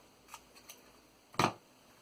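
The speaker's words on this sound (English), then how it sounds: "Maybe if I just try to cut a straight line just like that" A pair of scissors snips paper in a straight line: two light nicks, then one firm, crisp cut, close by in a quiet room.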